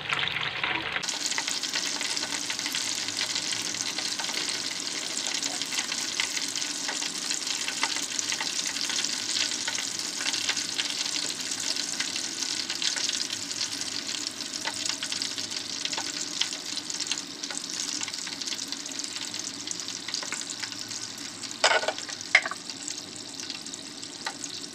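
Hanoi spring rolls (nem) frying in hot oil, a steady, close crackling sizzle that runs throughout, with a few louder pops and clinks near the end.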